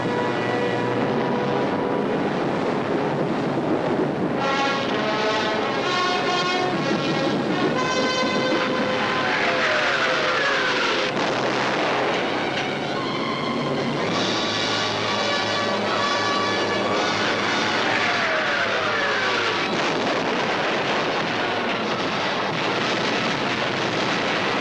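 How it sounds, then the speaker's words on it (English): Engines of WWII German night bombers drone in a continuous, loud, unbroken rumble, heard together with a swelling orchestral score. "All the available German night bombers were put into the air."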